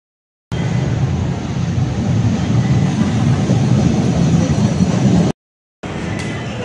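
Steady, loud rumbling roar of a moving LRT light rail train heard from inside, constant low-heavy noise with a brief cut before it resumes.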